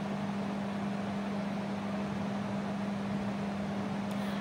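A mixer grinder coarse-grinds sautéed masala for a village-style prawn curry, its motor giving a steady, close whirring hum with a constant tonal drone from start to finish and no talking.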